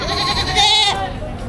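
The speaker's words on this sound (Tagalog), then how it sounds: "dalawang kambing na rin" At a livestock auction in Padre Garcia, Batangas, a goat gives one loud, wavering bleat close by over crowd noise and talk.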